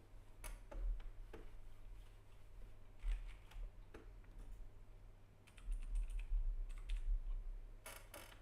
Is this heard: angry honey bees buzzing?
no